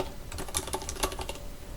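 Rapid keystrokes on a computer keyboard while a name is entered into an Excel spreadsheet, an irregular run of close, crisp clicks with no talking.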